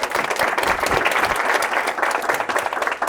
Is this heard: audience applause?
yes